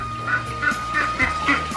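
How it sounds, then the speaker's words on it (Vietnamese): A flock of farm ducks calls repeatedly, nasal honking quacks in an uneven series of four or five, close and fairly loud, with no voices over them. "Rất nhiều những chú vịt đang ra ngóng ngóng"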